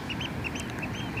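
A duck quacks repeatedly in quick, nasal bursts by the Westerschelde river in the Netherlands, with a steady low rumble of outdoor background noise underneath.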